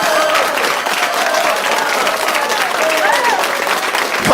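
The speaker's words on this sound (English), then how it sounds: "I'm going to give you guys a round of applause." A group breaks into a dense round of applause, steady clapping that fills the whole stretch with some voices mixed in.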